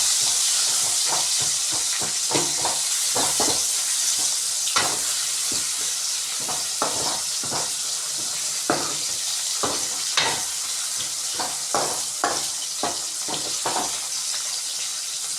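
Ingredients for a Tamil fish curry (meen kulambu) sauté in a pan with a steady sizzle, broken by repeated sharp spatula scrapes and clinks at an uneven rhythm, close and loud, with no talking.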